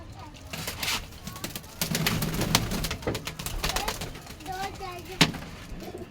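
Pigeons coo softly and flutter their wings nearby, with a few sharp flaps and brief calls over faint background noise, while people talk quietly in the background.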